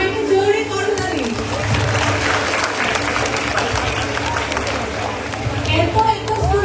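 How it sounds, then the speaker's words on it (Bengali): Audience applause at a school biology olympiad award ceremony, a dense, loud burst of clapping from a large crowd that rises, holds steadily, then tapers off. "সবাইকে জোরে করতালি।"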